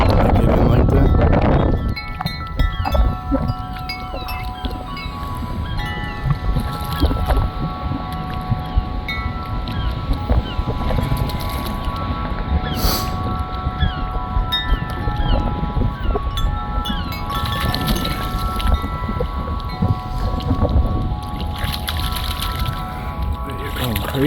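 Wind blows across a pond on Long Island, a gusty rush with a loud buffeting burst at the start, then steady blowing under faint, sustained ringing tones.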